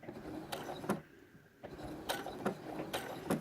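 Sewing machine running a blanket stitch on an appliqué quilt, a steady mechanical whir punctuated by sharp rhythmic needle clicks, pausing briefly midway as the fabric pivots before resuming.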